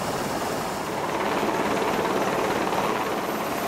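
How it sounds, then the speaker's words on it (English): A helicopter drones steadily through a sea evacuation, its rotor and engine roar loud and unbroken with no voices over it. "Helicopter evacuation takes place very quickly."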